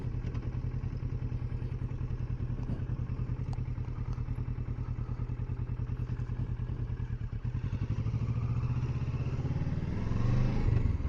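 A 2020 Kawasaki Versys motorcycle rumbles steadily while riding through a storm-damaged park, with a continuous close engine drone and some clatter and wind.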